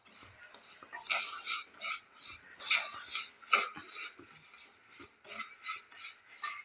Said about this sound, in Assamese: এতিয়া মই কেৰাহীখনত 1-2 মিনিট সময় এইদৰে লৰাই থাকিম।